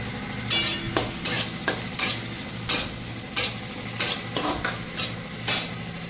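Onions sizzle steadily in hot oil for egg bhurji while a spoon scrapes the pan in regular, repeated stirring strokes, close and fairly loud, with no talking.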